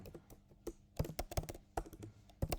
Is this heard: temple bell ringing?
no